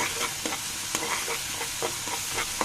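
Mejbani beef frying in a pan with ready-mix mejbani spice, a constant close sizzle broken by regular clinking scrapes of a spoon stirring about every half second.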